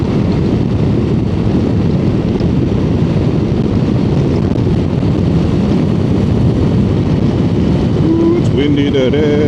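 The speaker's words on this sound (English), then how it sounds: "Windy today." Constant heavy wind buffeting on the microphone while riding a motorcycle, a loud low rumble throughout with no clear voices, a faint tonal whine entering near the end.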